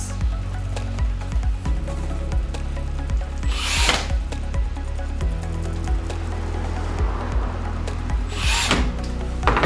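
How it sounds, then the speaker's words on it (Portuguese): Phillips screws are driven by hand into a PS4 cooling fan, producing close, sharp ticks and scraping clicks with occasional rubbing handling noises, loud and unaccompanied by speech. "E vamos colocar 2 parafusos Phillips."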